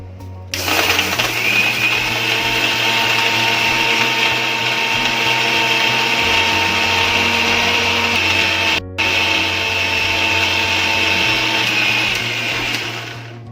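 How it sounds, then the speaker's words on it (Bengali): An electric mixer grinder whirs loudly while grinding mustard seeds into paste, a high steady motor whine with a brief stop near the middle before it restarts and runs on, close and alone. "তো চলো সরষেটা মিক্সিতে পেস্ট করে নিই।"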